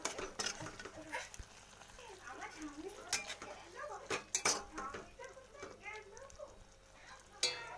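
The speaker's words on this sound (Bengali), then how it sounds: "একটু নেড়ে দিলাম মাঝখানে" A chhatu mixture being stirred in a cooking pan, soft scraping and occasional utensil clinks against the metal, heard faintly beneath a person talking.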